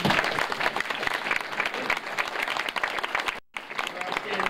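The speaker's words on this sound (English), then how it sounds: "Let's give him a round of applause." Audience applause at a Boy Scout lodge gathering honoring the lodge chief, dense and steady clapping from a crowd, with a brief drop to near silence before the clapping resumes.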